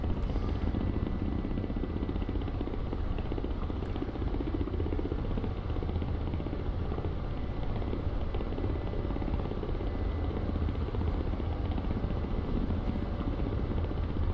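A Ka-50 combat helicopter flies low in the DCS combat flight game, its rotor and turbine noise a steady, loud, unbroken roar that holds for the whole stretch with no talk over it.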